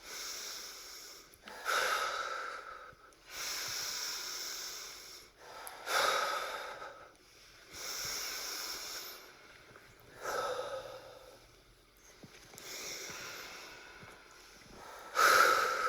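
Rapid, deep breathwork breathing during a yoga-style exercise, with strong inhale and exhale pulses repeating about every two seconds. Close, breathy and loud, with no talking over it.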